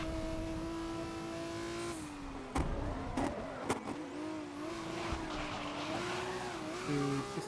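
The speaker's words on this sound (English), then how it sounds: "this guy's clutch sounds horrible in this car" A race car engine in the Grid 2019 racing game on PS4 Pro drones steadily, its pitch dipping and rising through gear changes, with several sharp mechanical knocks from the clutch and shifts near the middle.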